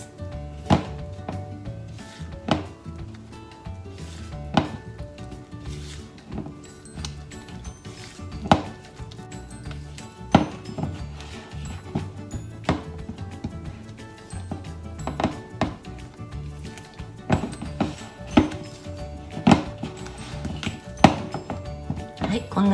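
Hotcake mix batter for mini corn dogs is mixed in a bowl. A quiet scraping runs under it, broken by irregular knocks of the utensil against the side, and a soft voice can be heard at times.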